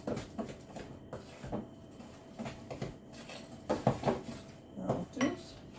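Batter for Jammie Dodger biscuits is mixed in a bowl, heard as uneven bursts of clinking and scraping against the bowl, fairly close and moderately loud, with no speech.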